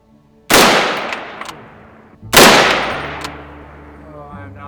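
Two loud rifle gunshots a couple of seconds apart, fired with subsonic and supersonic ammo, each a sharp crack followed by a long echoing decay outdoors.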